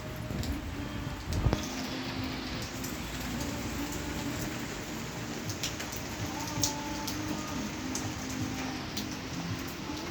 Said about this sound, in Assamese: এতিয়া চব বৰষুণ আহি গ'ল।